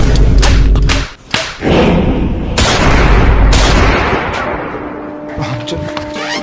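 Gunshots fired by bandits in a comedy sketch come as several sharp, loud bangs and thuds in quick succession, followed by a dense, rumbling burst of noise.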